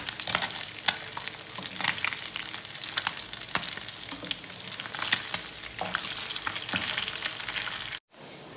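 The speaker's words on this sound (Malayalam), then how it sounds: "തീരെ ചെറിയ മീനായതുകൊണ്ട് ഇത് നന്നായിട്ട് മൂക്കുന്നതാണ് നല്ലത്" Small fish fry in hot oil for a Kerala fish fry, giving a loud, dense, crackling sizzle with sharp pops and stirring scrapes throughout, then a brief cut to near silence close to the end.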